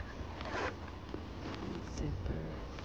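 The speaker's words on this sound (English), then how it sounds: "Little zipper." A small zipper on a new bag being handled, a few short scratchy zipping rasps close up, with soft handling noise between them.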